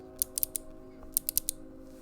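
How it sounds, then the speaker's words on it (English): A custom mechanical keyboard with a carbon fiber plate and 50A O-rings, recorded at desk level: two quick clusters of crisp, light key clacks separated by a short pause, fairly quiet and close, with no talking. "here's a very scuffed typing test"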